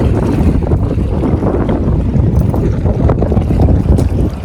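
Strong, steady wind buffets the microphone with a loud low rumble and gusty roar throughout, with no voices.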